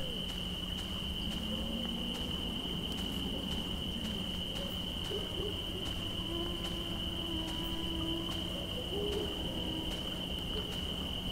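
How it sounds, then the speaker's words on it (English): Owl hoots drift through the dark Slender: Claustrophobia game maze, repeating softly against a steady bed of cricket-like insect chirring and a constant high tone, with no talking. "the owl noises are creeping me out here"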